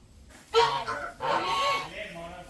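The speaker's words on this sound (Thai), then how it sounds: "อันนี้เป็ด เป็ด ตกลงเป็นเป็ดนะ" A duck quacks loudly and close in two raspy, honking bursts, with fainter calls trailing after.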